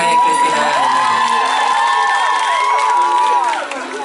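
An audience at a live band show at The Stories Korat cheers and screams for a new band member in a loud, continuous, high-pitched roar with some clapping, easing off slightly at the very end.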